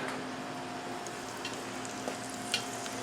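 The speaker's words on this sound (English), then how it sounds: "you see that sizzle right there?" Hot oil sizzles softly and steadily in a pan for frying pork dumplings, with a few faint crackles and pops scattered through the hiss.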